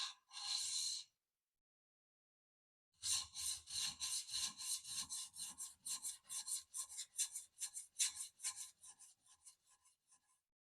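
Wood being sanded by hand with 300 grit sandpaper to remove a nick: one short rasping stroke, a pause, then a long run of rapid, even back-and-forth scrubbing strokes, close and fairly loud, with no talk.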